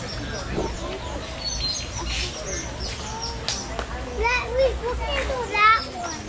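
Birds chirp and tweet in bursts along the Gorilla Falls trail at Disney's Animal Kingdom, over a steady hum of children playing and chattering in the background.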